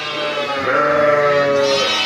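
A Kangal Akkaraman ewe, mother of twin lambs, lets out one long wavering bleat, loud and close, with no other sound around it.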